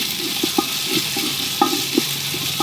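Ginger paste frying in oil with browned onions for vegetable khichuri, a steady sizzle broken by several sharp spoon scrapes and stirring knocks against the pan, close and moderately loud with no talking.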